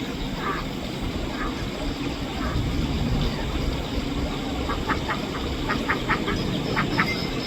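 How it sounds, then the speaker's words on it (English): Ducks on a homestead quack in short bursts, a few early and then a busier cluster toward the end, over steady outdoor background noise at moderate distance. "Hi, ducks."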